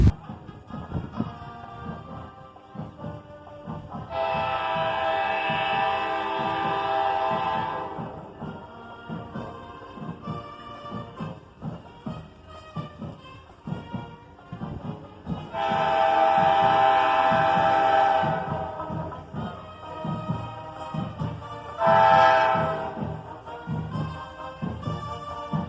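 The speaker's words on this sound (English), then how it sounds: "another train was coming." A slow train rolling past a parade route blows its horn in three loud blasts, two long and one short, over a steady low rumble and rattle of passing cars.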